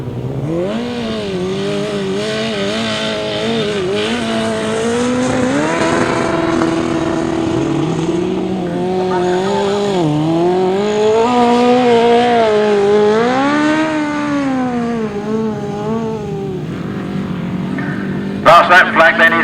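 Race cars driving past on a racing circuit, a loud continuous engine drone whose pitch rises and falls as the cars accelerate and ease off, ending with a few sharp bursts.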